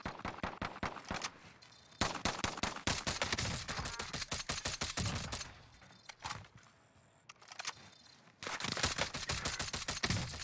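Fast volleys of automatic gunfire in a shooter game match on the Alcatraz map come in loud bursts separated by brief quieter lulls, sharp and close, with no one talking.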